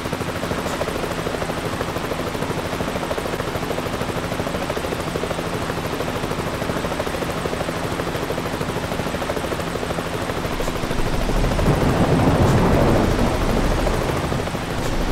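Helicopter at an airfield in Euro Truck Simulator 2, a steady loud rotor thrum and engine whine holding throughout, swelling louder near the end as it seems to pass closer.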